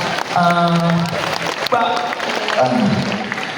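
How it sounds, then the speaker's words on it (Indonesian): An audience at an indoor event applauds with steady, fairly loud clapping, while voices speak and call out over it at several points. "Tepuk tangan dulu untuk Bapak."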